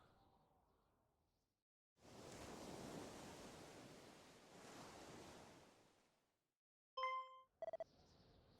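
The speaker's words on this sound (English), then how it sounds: "I hear waves." Ocean surf in the video game Dragon Quest II HD-2D Remake rolls in as two soft, broad washes of wave noise, separated by brief silences, ending with a few sharp chime-like game tones.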